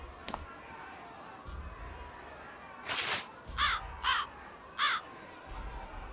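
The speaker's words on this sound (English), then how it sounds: "Asian Crow appears through a hole to the adjacent cell." A crow caws in the hidden-object game Mystery Case Files: Escape From Ravenhearst. A harsh call comes first, then a quick series of four raspy caws over a quiet, low ambient background.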